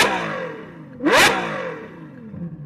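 A Ferrari 812 engine revs hard in one sharp, loud burst, rising and falling in pitch, with Novitec aftermarket exhaust crackle over a rumbling idle.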